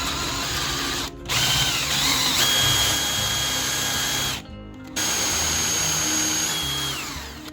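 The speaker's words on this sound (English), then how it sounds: "3/4 inch Forstner bit. We're going to try and shoot as straight as we can." Power drill with a 3/4 inch Forstner bit boring into wood, a loud steady whine in three bursts with two short pauses between them, each ending as the motor spins down.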